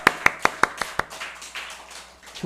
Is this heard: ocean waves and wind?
no